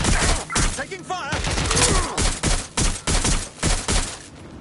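Gunfire in the video game Watch Dogs Legion, rapid bursts of shots cracking out in repeated volleys close by, mixed with voices and game sound.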